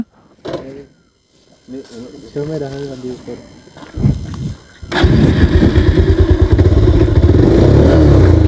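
A motorcycle engine starts up midway and keeps running loud and close with a steady rumbling chug, after a stretch of quiet speech.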